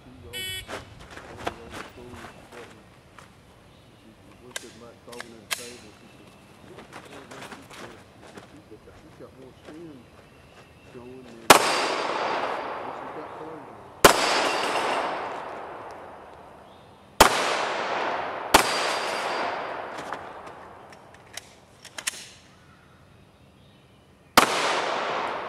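Loud pistol shots ring out on a steel-plate shooting course, each followed by a long metallic ring and decay, arriving in spaced bursts after quieter talk and handling sounds at the start.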